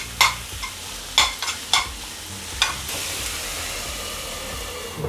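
A spoon stirs and mashes a bread snack mixture in a frying pan, giving several loud scraping strokes over a steady, close sizzle.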